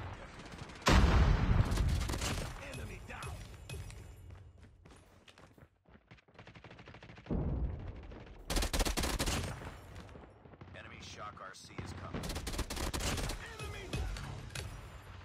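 Burst-fire gun in COD Mobile during a Hardpoint match, with several loud rapid volleys of automatic gunfire separated by quieter gaps, close and sharp, with game sounds between the bursts.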